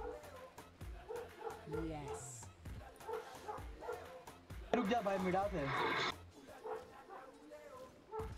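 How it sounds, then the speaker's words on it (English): A dog barks and yips at intervals in the background during a game session, mixed under ongoing talk and music, with a louder burst of barking midway. "I can hear the dog barking to the song."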